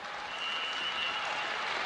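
Crowd cheering and applauding at a men's volleyball match in the Gate Center, a dense, steady roar of clapping and shouting that fills the arena without a break.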